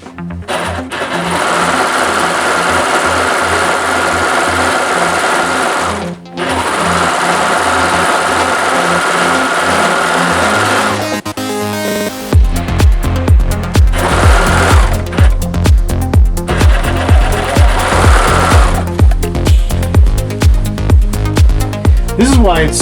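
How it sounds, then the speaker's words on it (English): A serger overlock sewing machine stitches apron fabric: first a steady high whirring run with a short pause, then a louder, rapid rhythmic chatter of the needle and cutter sewing continuously up close, with no talk. "I take it over to the serger and I'm serging it up now."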